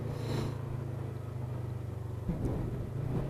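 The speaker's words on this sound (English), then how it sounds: "it makes all those good dune buggy sounds" Steady low engine rumble from a 2023 Polaris RZR XP 1000 street-legal side-by-side, running close by and continuous with a brief bump partway through, no talk.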